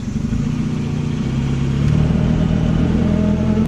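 An old barn-find Volvo car, unused for over fifteen years, accelerating at full throttle on a test drive, its engine droning steadily and loud throughout, with a rougher, louder stretch in the second half and no talk.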